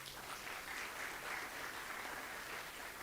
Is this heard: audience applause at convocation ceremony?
yes